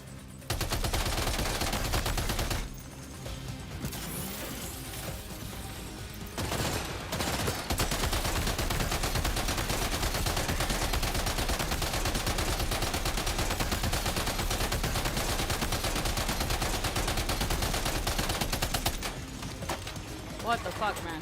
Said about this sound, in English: Machine gun. Yes. This is it.